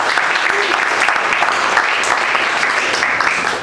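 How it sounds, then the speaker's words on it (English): An audience at a Dallas startup-pitch community event applauds a business owner, a dense, steady burst of clapping from a sizable crowd that fills the whole stretch at close range. "let's give a round of applause to Mark."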